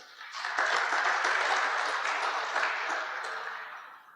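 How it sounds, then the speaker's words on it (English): Applause from a conference audience at a no-till farming club event, honouring sponsors; a steady wash of clapping swells in and holds for about four seconds before tapering off, moderately loud and without talk. "So I want to ask you just to give them a round of applause."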